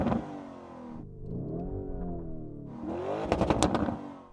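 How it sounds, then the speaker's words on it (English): A Lamborghini engine revs hard twice, rising and falling in pitch with a loud, harmonic roar, the second burst sharper and crackling at its peak. "Go on, Yanni, let's hear the Lambo."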